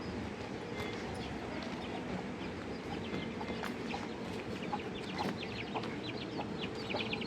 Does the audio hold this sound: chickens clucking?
yes